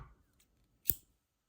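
Scissors snip crochet yarn while a granny square balaclava is being made: one crisp, close cut in near silence.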